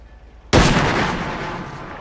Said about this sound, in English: They do a cut to black gunshot.